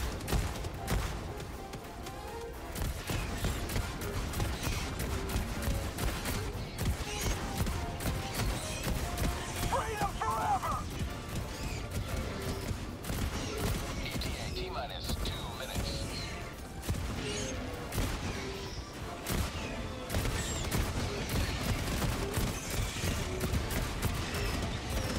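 Rapid mech-mounted gunfire in Helldivers 2 rattles on continuously at close range through the whole stretch, mixed with game explosions and impacts, while players talk over it.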